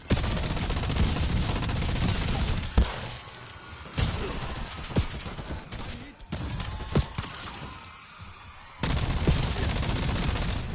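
Dense, loud gunfire in Call of Duty Black Ops 7 Zombies, sustained bursts with sharp cracks breaking off into quieter gaps before firing resumes near the end.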